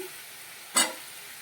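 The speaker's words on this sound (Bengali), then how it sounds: "এবার আলুগুলো দিয়ে দিচ্ছি" Potatoes drop into a pan of frying onion and tomato, giving one short, sharp burst of sizzling that fades quickly against a steady low background hiss.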